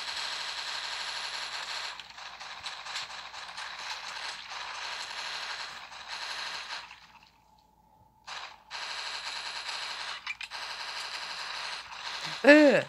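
Video game gunfire rattles in fast repeated mechanical bursts at moderate level, pausing briefly into near silence, then resuming steadily before a short wavering tone at the end.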